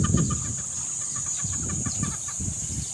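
Chickens at a poultry farm cluck in short, repeated bursts close by, several birds overlapping against a steady background hum.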